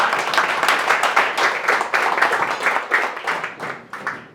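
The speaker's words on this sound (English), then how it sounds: "if we could please just afford our guest a very warm round of applause" An audience applauds a guest speaker at a leadership talk, steady close clapping from a room-sized crowd that holds for several seconds and begins to thin toward the end.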